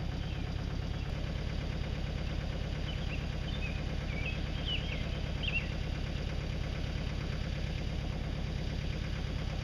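A tractor engine idles with a steady, rapid low chugging that stays constant throughout, close and even, with faint chirps high above.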